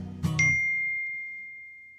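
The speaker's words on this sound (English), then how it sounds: "it just gave us a little alert" A phone notification sounds a single bright ding that rings out and slowly fades, loud and close, with a soft bump of room noise just before it.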